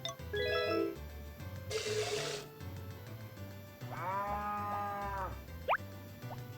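A cow moos in the Harvest Moon farming video game, one drawn-out, tonal call rising and falling over a soft, steady game music backdrop, clear and close.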